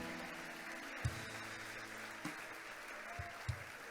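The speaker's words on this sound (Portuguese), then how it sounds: "Aplauda o Senhor mais forte." A church congregation applauding, a steady, fairly faint wash of clapping with a few louder thumps scattered through it.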